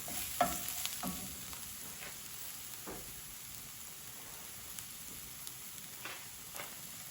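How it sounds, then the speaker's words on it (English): Tomato shakshuka mixture frying in a pan is stirred with a few scattered, soft scraping strokes over a faint, steady sizzle. "I'll give it a stir"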